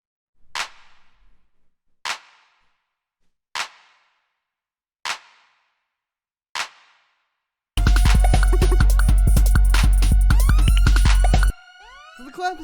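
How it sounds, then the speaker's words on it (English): Hard-hitting trap-style clap sample with reverb for footwork drums, struck five times at an even pace, each sharp crack trailing off, then a loud dense musical passage. "you can hear this one is just sort of like a hard-hitting, sort of like trap style clap"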